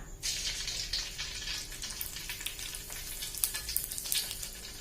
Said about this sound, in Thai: เดี๋ยวน้ำมันเดือดเราจะทอดนะคะ